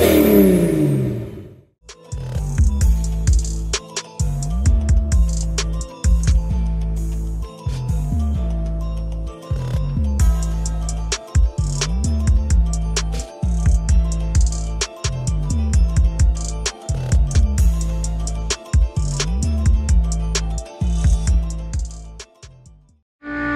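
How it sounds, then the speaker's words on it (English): A pump filling a diesel tank through a hose tied to the tank vent runs with a loud, steady mechanical drone that pulses in a regular cycle of about two seconds. "Pump running down there, and I've got a hose tied onto my tank vent, so we're gonna try to fill it up that way."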